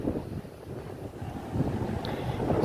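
Gusty wind buffets the microphone with low rumbling, rising slightly toward the end, with no voices.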